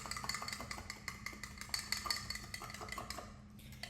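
A sauce being whisked in a bowl for a black pepper chicken dish, with quick, steady metallic clinks and scrapes close by in a fast repeating rhythm that eases slightly toward the end.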